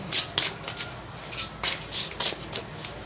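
Tarot cards being shuffled and drawn, with a series of crisp riffling bursts at an uneven rhythm, close and fairly loud, with no talking.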